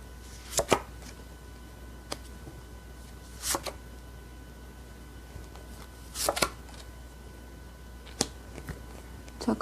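Tarot cards shuffled and drawn during a reading, heard as four short, crisp bursts of card flicks spaced a couple of seconds apart over a quiet background hum.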